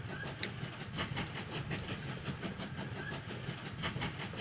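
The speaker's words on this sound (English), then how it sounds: "Let's get that train out of the way." Faint steady train running in the railway-building game Mashinky, a continuous low rolling rumble with rhythmic clacks and light hiss, no voices.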